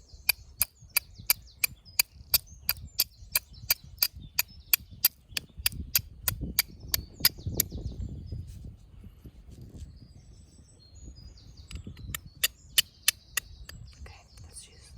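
Flint struck against steel to throw sparks onto amadou tinder gives a steady series of sharp, close metallic clicks, about two per second, pausing midway under a soft rustle before the strikes resume.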